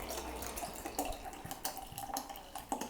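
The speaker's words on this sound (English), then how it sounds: "just put a bit in, and then add your fizzy water" Fizzy water poured into a glass of elderflower cordial, a steady liquid trickle and splash with faint fizzing, mid-distance and moderately quiet.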